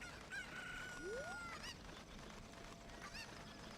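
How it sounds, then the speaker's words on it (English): A chicken in the Zelda Ocarina of Time video game gives a rising crow-like squawk followed by honking clucks, fairly faint over steady game background sound, with no talk. "We need this chicken."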